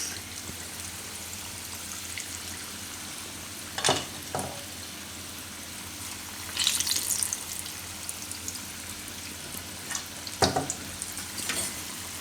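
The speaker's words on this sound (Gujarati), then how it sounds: "તો આ રીતના તરાવા દેવાના આ રીતના થઈ જાય એટલે એને ડીશમાં કાઢી દેવાનું" Raw banana kofta frying in hot oil over a lowered gas flame: a steady, close sizzle runs throughout, broken by a few brief clinks and louder bursts of spattering.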